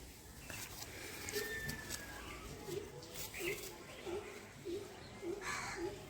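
Pigeons at a home pigeon-selling loft give soft, repeated coos at a steady rhythm, fairly faint and close, over a noisy background with other birds chirping.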